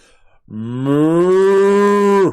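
A cow in the video game Botany Manor lets out one long, loud moo that rises and holds steady for nearly two seconds, close and alone with no talk.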